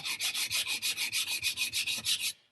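Chef knife drawn across a 400-grit whetstone, about fifteen quick, even rasping strokes in steady rhythm, close and fairly quiet, with no talk.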